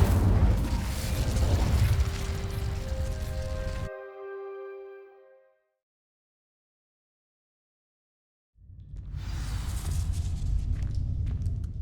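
An Incendio fire spell igniting dry vines in Hogwarts Legacy: a loud burst with a crackling, booming rush, followed by a shimmering tonal ring that fades into silence before the game's ambience returns.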